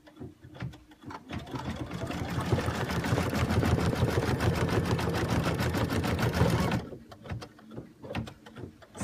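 A sewing machine runs a basting stitch in a rapid, steady burst of mechanical clatter lasting several seconds, with quieter clicks and handling noises before and after.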